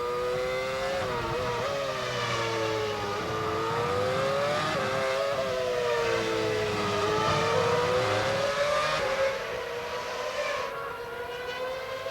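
McLaren Formula 1 race car driven by Lewis Hamilton at the 2007 Turkish Grand Prix, its high-pitched engine whine rising and falling steadily through gear changes, loud and continuous before easing slightly near the end.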